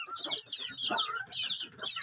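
Backyard chickens clucking and chirping busily at morning feeding time, several birds calling close by in overlapping bursts with no talk over them.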